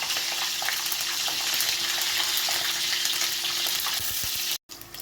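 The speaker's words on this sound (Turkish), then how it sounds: "Charleston, Charleston biberlerimiz kızardı efendim." Charleston peppers fry in a hot pan with a dense, steady hiss and crackle, close and constant, cutting off abruptly just before the end.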